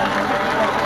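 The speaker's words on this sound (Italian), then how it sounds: "un grande applauso" Audience at a 1991 rodeo in Aritzo, Sardinia, applauding in a brief, dense burst of clapping with an announcer speaking over it.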